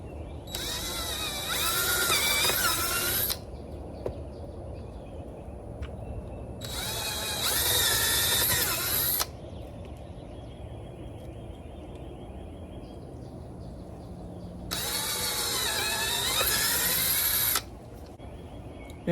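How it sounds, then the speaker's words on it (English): A power drill with a 1/8 inch bit bores pilot holes for a door blocker, three separate loud whining bursts of several seconds each, split by quieter pauses with faint handling noise. "Now I'm using the 1/8 inch drill bit to be able to drill the pilot hole."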